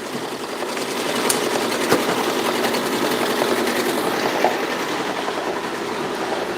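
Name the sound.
Juki sewing machine running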